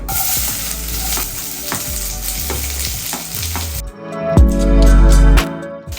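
Chopped and crushed ingredients sizzle and fry in a hot pan, with regular scraping stirs throughout and a louder burst of sizzling near the end.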